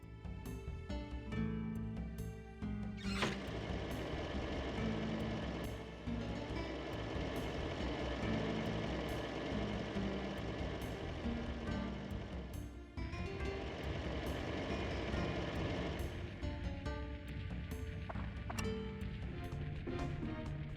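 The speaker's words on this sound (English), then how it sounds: "Tram wheels are now fully oiled." A tram in the video game Dark Cloud rolls along its rails with a steady, droning mechanical rumble and rattle, broken by brief clanks and a pause partway through, continuing for about twenty seconds.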